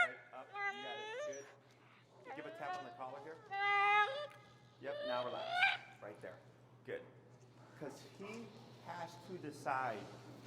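A feral husky, extremely vocal, whines and whimpers in long rising and falling cries, repeated in bursts with brief pauses, close and fairly loud over a steady low hum.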